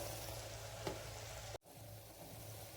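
Tender jackfruit for pulao sautés in a hot pan with a steady oily sizzle, close and even. A brief soft stir bump comes partway through before the sound cuts out abruptly.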